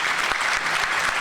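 Steady, dense applause from an audience at the Keep Louisiana Beautiful 2022 Everyday Hero Awards ceremony, filling the whole moment at an even, moderately loud level with no break.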